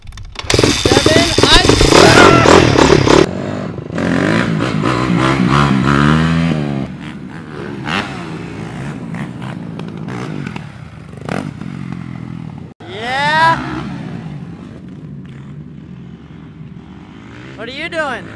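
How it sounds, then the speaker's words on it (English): A kick-started motorcycle runs in freezing weather, its engine roaring loud and close with rough revving for the first few seconds, then carrying on more steadily beneath voices and background sound. "this bike is crazy. It starts 7th kick every time."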